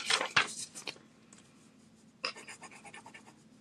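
A pen scratches across paper in quick bursts, a cluster of short strokes, a pause, then another run of scribbling. The sound is close and crisp, with no talk.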